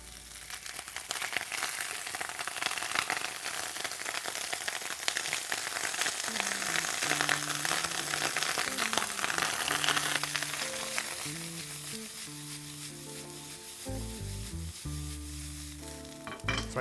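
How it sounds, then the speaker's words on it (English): Cooled cooked rice sizzles and crackles steadily in hot oil in a skillet, with scraping stir noises as it is tossed, loud and close with no talking. "So I toss the rice with the oil"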